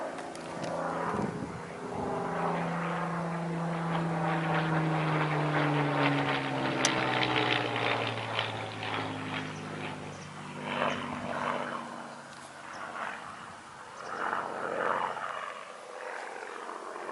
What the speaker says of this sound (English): Look at that bloody plane.